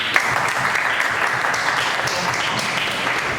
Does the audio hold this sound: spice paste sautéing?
no